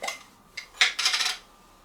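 A spoon clinks and scrapes against a bowl while honey is stirred into a mixture, giving a few quick metallic taps and a longer rattling swirl, close and clear with no voices.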